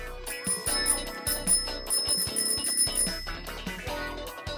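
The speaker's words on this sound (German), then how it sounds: "Ich habe diese Klingel gehört." A bell rings repeatedly in quick bursts, bright and fairly loud, with a continuous metallic jangle over background music-like tones.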